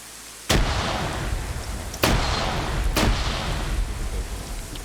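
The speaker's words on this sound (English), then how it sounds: "Grenade." Three loud, sharp explosion blasts from a video game grenade, spaced a second or two apart, each bursting suddenly and then leaving a dense rumbling wash of sound behind it.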